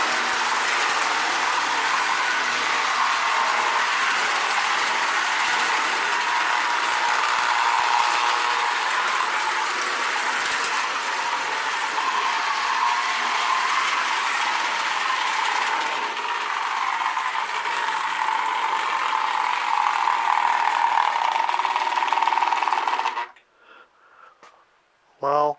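A Marx Cape Canaveral Missile Express toy train runs continuously with a steady mechanical whir and rattle of small gears, then stops abruptly near the end.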